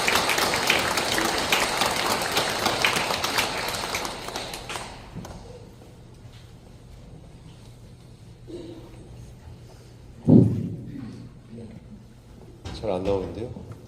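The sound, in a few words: audience applause welcoming a speaker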